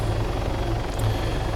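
A helicopter in the video game Arma 3, lifting a slung cargo load, sounds a constant loud rotor and turbine drone that holds steady throughout, with no voices.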